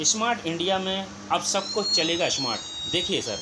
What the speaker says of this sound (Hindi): ऑटोमेटिक ही आपकी चक्की बंद हो चुकी है, आपको बीप सुनाई दे रही होगी